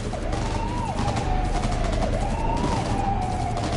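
Heavy gunfire in the video game Cyberpunk 2077 as police arrive, with rapid continuous shots over a wailing siren that rises and falls in the background, no speech.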